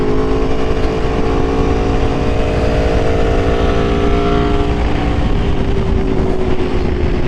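2022 Aprilia Tuono V4 motorcycle on Pirelli Rosso 4 tires riding the road, a loud steady engine drone with wind roar and a rising pitch as it gradually accelerates.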